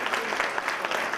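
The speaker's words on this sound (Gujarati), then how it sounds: "તો ફરીથી એકવાર આ બાજુથી વધારે તાળીઓનો અવાજ આવે." Brief, dense applause from an audience in a hotel banquet hall at a Svayamvar event in Mumbai, steady clapping throughout with no break.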